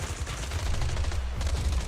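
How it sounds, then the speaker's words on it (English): Dense, rapid bursts of gunfire rattling continuously, like a heavy volley of shots with deep booming low end, loud and unbroken. "Gunfire erupts like a relentless downpour"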